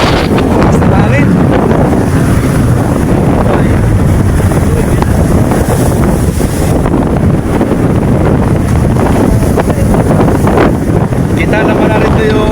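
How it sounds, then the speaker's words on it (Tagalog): Strong wind buffets a boat running through big waves at sea, a loud, constant roar of wind against the microphone over sloshing water and engine rumble, with faint voices underneath. "malakas ang hangin"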